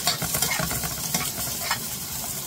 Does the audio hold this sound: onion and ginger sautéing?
yes